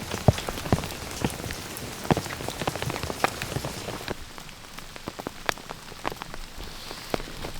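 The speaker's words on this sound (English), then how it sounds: "I feel like the rain is slowing down, which is good." Steady rain drums on a bush shelter at night in Australian winter, a dense constant patter with sharper close drops striking the surface throughout, no voices.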